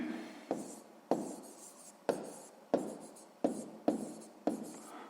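Pen strokes writing out a sixth-grade math exercise on paper, a steady series of close scratchy strokes, each starting with a sharp onset and fading, repeating about once every half second to second.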